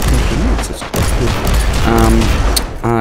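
Cyclone missile launcher and grenade fire in the Warhammer 40,000: Inquisitor video game, a dense loud barrage of blasts and booms with mechanical whirring, close and continuous.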